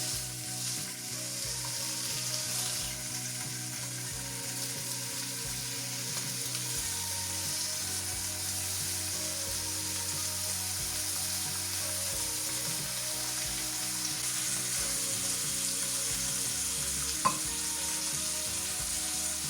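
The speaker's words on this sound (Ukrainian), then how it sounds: "Так, смалець у нас розігрівся. Кидаємо наш бекончик." Bacon crackles and sizzles steadily in hot lard, a dense continuous spitting with a faint low hum underneath and no voices.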